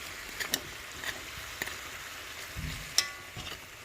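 Jamaican oxtail fries in a crowded pot with a steady sizzle, punctuated by sharp clanks and scraping stirs of a utensil against the metal, no talking.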